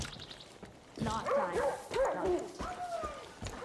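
A dog in the video game Far Cry New Dawn yips and whimpers in a few short, moderately close bursts, with pitched whining calls over quiet game background.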